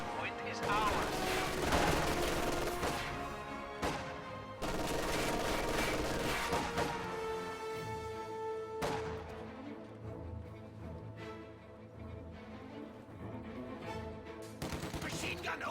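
Machine gun fire rattles in a Company of Heroes 2 mod match, with rapid bursts and fusillades in loud stretches separated by brief quieter gaps amid battlefield noise.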